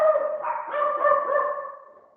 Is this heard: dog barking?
yes